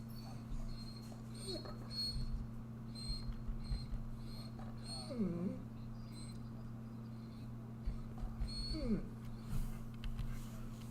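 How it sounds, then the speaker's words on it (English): A dog whines in a few faint, high, wavering whimpers scattered through a steady electrical hum from a computer setup, quiet and intermittent with nothing else prominent. "My dog is being a pain. You can hear him whining."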